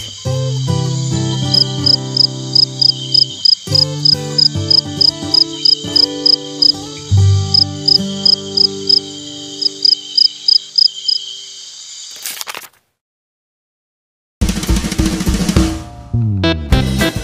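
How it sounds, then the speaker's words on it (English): A cricket chirps in rapid, evenly spaced pulses over steady background music for about eleven seconds, then stops during a short silence before other sound resumes. "Cricket."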